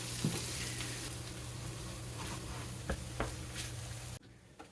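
Sliced potatoes and bologna fry together in a pan, giving a continuous close sizzle with a few soft knocks before the sound suddenly drops away near the end.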